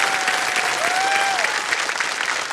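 Studio audience on the quiz show KBC giving strong applause for two singer guests, loud continuous clapping with faint tonal music sliding underneath.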